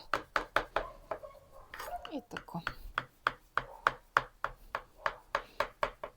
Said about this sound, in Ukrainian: нарізаю порціону на шматочки.